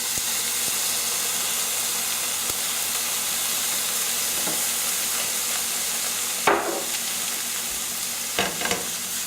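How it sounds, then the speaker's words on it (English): Browned, cooked-down onions sizzle in a pan after balsamic vinegar is added, a steady loud frying hiss with a few sharper bursts and stirring scrapes near the end, no voices. "we're just going to add a little bit of balsamic vinegar to it."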